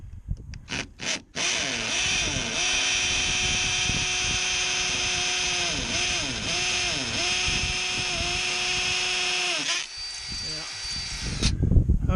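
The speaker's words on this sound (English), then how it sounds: "I think I'm through the block." A Ryobi 18V cordless hammer drill bores through a block, a steady loud whirring grind running for about nine seconds with brief pitch dips as the load changes, then cutting off.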